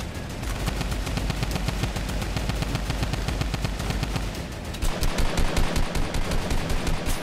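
Mounted turret fire in a video game rattles in continuous rapid automatic bursts, loud and close throughout, with a heavier, punchier stretch of shots toward the end.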